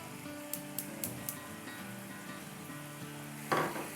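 Chicken for BBQ biryani frying in a pot, a soft continuous sizzle with a few faint clinks and a brief louder burst of crackling toward the end.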